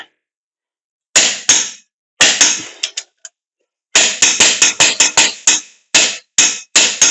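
A torque wrench clicking repeatedly while tightening bolts on a 2008-2012 Ford Escape Hybrid during front bearing replacement, sharp close clicks coming singly and in quick bursts with no talk.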